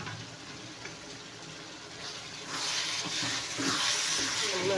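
Appalam (papadum) crackles and sizzles in hot oil in a pan, a soft hiss that swells noticeably louder partway through as more bubbling sets in.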